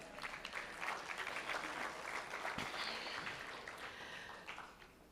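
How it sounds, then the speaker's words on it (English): Audience applause for a band at a mountain dance and folk festival: steady, dense clapping from a crowd that holds for the whole stretch and eases slightly toward the end. "they have always stepped back on stage and clapped for the band"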